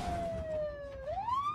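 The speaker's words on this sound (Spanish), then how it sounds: "¡Hostia, la ambulancia!" An ambulance siren in a zombie video game wails in one long falling tone, then sweeps back upward, fairly loud over a low rumbling background.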